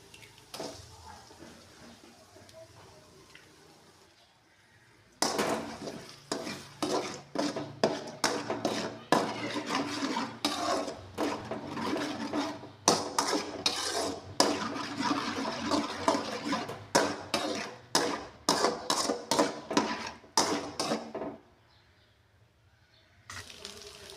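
Beaten eggs hit hot oil with fried onions in a pan for egg fried rice, setting off a loud, steady sizzle broken by rhythmic scraping pulses that fade back to a low hiss.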